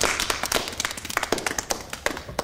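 Scattered hands clap after a trick at a live stage show, crisp uneven slaps from a small, fairly close group that thin out into separate taps.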